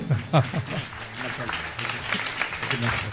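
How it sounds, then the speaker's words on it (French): Audience applause at a 2020 podium ceremony in a French-speaking hall, a steady wash of clapping running throughout, with voices and a brief cheer mixed in over it. "Et on applaudit."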